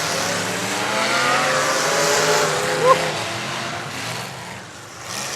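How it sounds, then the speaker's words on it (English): An LS V8 race car engine roars steadily at a distance, its drone rising and falling as it runs, with a faint voice over it. "That's a LS motor"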